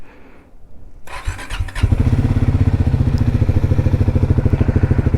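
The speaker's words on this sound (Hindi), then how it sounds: "इंजन को पहले कोल्ड स्टार्ट कर लेते हैं।" A Triumph Speed 400 motorcycle is cold-started: a brief cranking whir catches into a loud, close, rapid thumping idle that stays steady and even.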